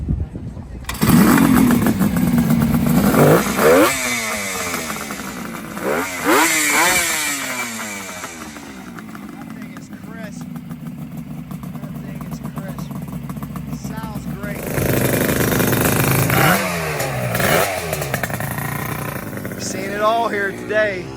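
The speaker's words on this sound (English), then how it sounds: "Let's see if we can hear this beautiful two-stroke come to life here." A Kawasaki KH500 two-stroke motorcycle at an outdoor show starts and revs repeatedly, its buzzing engine rising and falling in pitch, loud and close, with crowd noise and people talking underneath.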